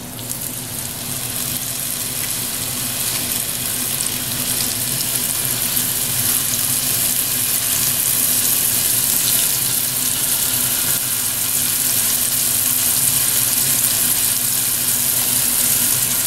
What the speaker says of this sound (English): start laying them off in a pot. This is just going to brown